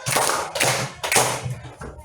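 Children in a classroom clapping game clap in unison, three loud, close group claps spaced roughly half a second apart, each with a brief ragged tail.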